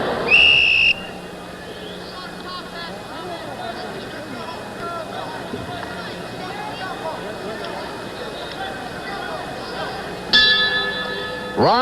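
A boxing ring bell rings sharply at the start and again near the end during the Muhammad Ali vs Jerry Quarry fight, with crowd noise and a commentator talking in between.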